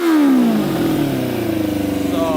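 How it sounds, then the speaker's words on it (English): A custom 100 hp Yamaha Banshee quad with a stage 4 jet kit revs hard nearby in neutral, its two-stroke pitch rising and falling through loud, ringing sweeps with a choppy burble between. "And then listen to it rev out. It revs out really good."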